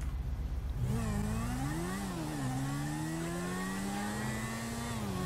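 A motorcycle engine in GTA 5 revs up, its strained tone climbing, dipping and holding at a high whine, steady and fairly close throughout.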